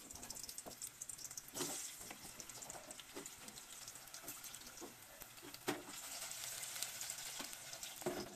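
Sweet potato fries sizzle in hot oil with skins left on, a soft, steady crackle heard from close by with scattered pops and light clatter.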